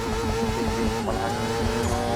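A motorcycle accelerates hard through a 0 to 60 run, its engine a continuous, loud, buzzing roar with a rising pitch and no pauses.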